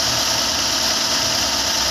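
A Daihatsu Grand Max engine idling steadily, with a faulty ISC (idle speed control) sensor affecting idle speed, heard as a loud, continuous broadband rumble and hiss with no talk.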